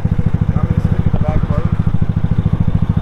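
Vespa Sprint 150 scooter engine running steadily while riding, a loud close low pulsing thrum with even rhythm and faint tonal chirps above it.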